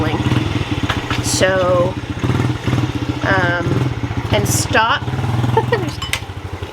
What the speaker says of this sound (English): Eli's decided to start the motorcycle right beside me here.